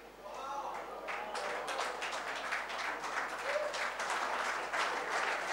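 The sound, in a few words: audience clapping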